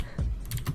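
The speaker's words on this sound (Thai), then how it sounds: "เสียงคีย์บอร์ดดังนะครับผมขอโทษด้วยนะ" A few quick, soft keyboard key clicks in a short burst, close by and fairly quiet, with no voices.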